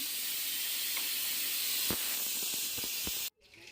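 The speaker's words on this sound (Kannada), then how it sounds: "ಈಗ ಕುಕ್ಕರ್ ಪ್ರೆಷರ್ ಎಲ್ಲ ಹೋಯ್ತು" A pressure cooker holding chicken biryani vents steam in a loud continuous hiss with faint ticks underneath, then cuts off abruptly into near silence.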